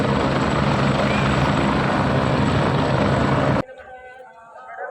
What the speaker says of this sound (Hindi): तो दो हेलीकॉप्टर है यहाँ पे